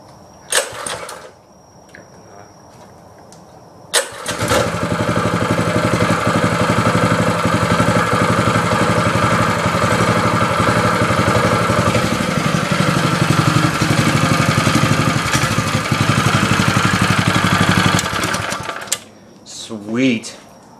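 A Greyhound 6.5 hp small gasoline engine pull-started after a rattle of the cord, catching at once into a loud, steady, fast-ticking idle that runs for about fifteen seconds before cutting off.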